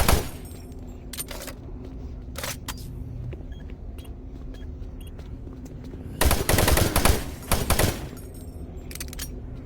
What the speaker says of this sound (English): Probably totally wasting this double shotgun on zombies